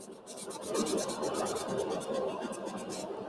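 Sandpaper rubbing a spinning wooden candlestick on a woodturning lathe, a faint, continuous raspy scratching with quick rhythmic pulses from the rotating piece, heard close and alone.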